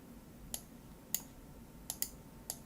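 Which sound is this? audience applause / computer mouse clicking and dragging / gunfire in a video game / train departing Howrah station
computer mouse clicking and dragging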